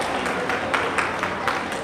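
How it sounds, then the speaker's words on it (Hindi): Applause from the audience at a Poddar Vaishya Mahasabha community event in West Bengal, a dense steady wash of many hands clapping with sharper individual claps standing out, continuous throughout. "एक बार जोरदार ताली"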